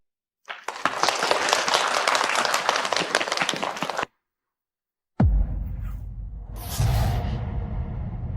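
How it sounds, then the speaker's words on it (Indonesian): Audience applause for a gold-prize-winning piano contestant fills the first few seconds with dense, steady clapping, then breaks off; after a short silence a low rumble and softer noise follow. "marilah kita sambut dengan tepuk tangan meriah kontestan pemenang hadiah emas piano kali ini, Liu Fang"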